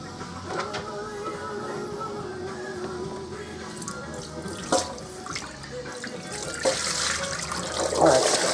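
Running water rinsing sand out of a bucket, a steady splashing and trickling stream with a few louder sloshes near the end, fairly close.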